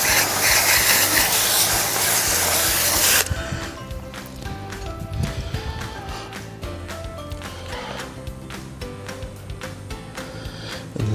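A water spray rinsing a car wheel, a loud steady hissing rush for about three seconds, then cutting off to quieter dripping and handling sounds.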